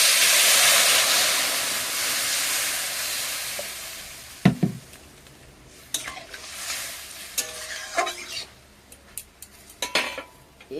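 Water poured into a pan of fried potatoes for an egg curry: a broad hiss and sizzle at the start fades into quieter stirring, with metal utensil clinks and scrapes against the pan.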